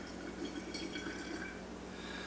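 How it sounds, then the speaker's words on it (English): Apple cider vinegar poured from a bottle into a nearly empty sauce jar, a soft steady trickle and drip of liquid, faint and continuous with no talk. "I'm going to try to pour this directly into the jar."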